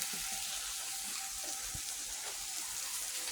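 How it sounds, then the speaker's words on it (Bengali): Water poured into a pan of sizzling spices sets off a loud, steady, close frying hiss that fills the whole moment, with faint stirring knocks underneath and no voices. "হালকা একটু দিয়ে দেবো জল"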